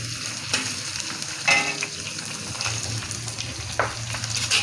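Onions and green chillies frying in a pan, a steady close sizzle with occasional louder crackles and stirring scrapes, no voices.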